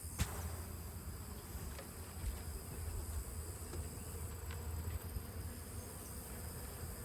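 Bees buzzing around an open beehive during a hive beetle inspection, a steady soft drone of many insects close by with occasional individual bees passing near, no talking.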